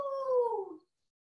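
A child gives one short howl imitating a wolf, a clear rising-then-falling wail under a second long, then silence.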